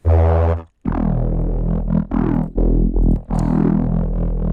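A buzzy, distorted neurofunk synth tone built in Vital plays in rhythmic bursts, its brightness sweeping up and down as an LFO opens and closes the filter cutoff, with brief gaps between phrases.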